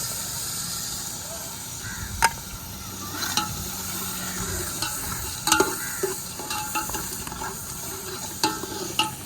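Masala sizzles and hisses in a hot pan as tomatoes go in, with the steady crackle of frying close by and intermittent sharp scrapes and clinks of stirring.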